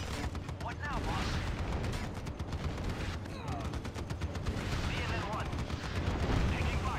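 Gunfire from the real-time strategy game Act of War: High Treason, with dense bursts of shots and automatic fire crackling continuously over a loud battle din, without pause.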